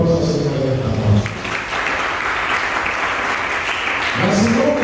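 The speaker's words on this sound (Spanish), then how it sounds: "Den un aplauso al Señor en esta noche." A church congregation bursts into sustained applause after a call from the pulpit, dense clapping filling the room for several seconds as a voice speaks over the start and returns near the end.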